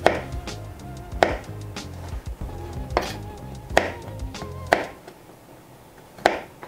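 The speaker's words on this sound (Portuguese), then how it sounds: "Eu vou cortar em quadradinhos." A knife chops frozen potatoes into small cubes on a board for fries, giving sharp, loud, evenly spaced cuts about once a second, close to the mic, with faint background hum between strokes.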